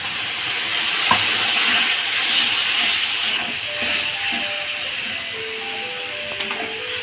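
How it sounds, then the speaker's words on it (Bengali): Water from rinsing a bowl is poured into a hot pan of mushroom kofta curry with boiled potatoes and separated oil, giving a steady loud steaming hiss and sizzle that slowly fades over several seconds, with a few faint clinks. "বাটি ধোয়া জলটা দিয়ে দিচ্ছি"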